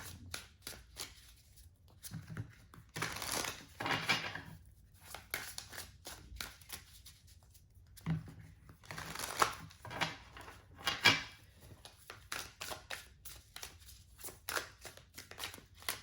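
Tarot cards being shuffled and drawn for a reading, with bursts of riffling and rapid flicking that come and go between quiet pauses, close and soft.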